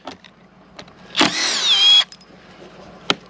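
A Harbor Freight Hercules brushless impact driver backs screws out of wooden form stakes at a construction site, one loud, close whirring burst lasting under a second, followed by light handling clicks.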